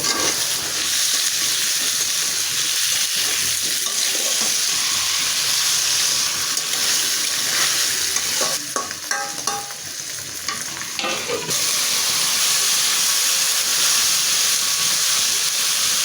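Spice masala sizzles and is stirred in a hot pan for a hilsa fish and flat bean curry. A steady, close frying hiss runs throughout, with a stretch of scraping, clattering stirring in the middle.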